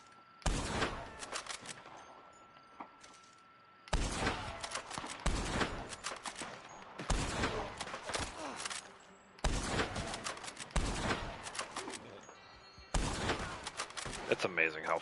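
Gunfire in Red Dead Online comes in loud, sharp volleys, bursts of rapid shots separated by brief pauses and repeating several times over a quiet background.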